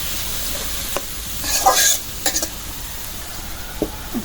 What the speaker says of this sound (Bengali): পেঁয়াজ রসুন শুকনো মরিচ এগুলো একটু লাল করে ভাজতে হয়